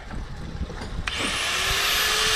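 A power tool, an angle grinder or drill, spins up from the solar pump's supply and holds a steady, loud whine. Quieter handling sounds come first, and the tool's pitch climbs slightly as it runs.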